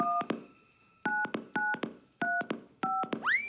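A red desk telephone is dialed by push-button, giving five quick bursts of two or three touch-tones each, separated by short pauses and ending in a brief rising ring-back tone.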